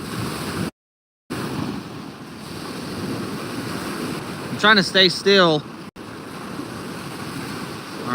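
Waves roll and wash along the shore of Lake Superior, a continuous loud surf rumble with heavy wind buffeting the microphone, and a person speaks briefly partway through.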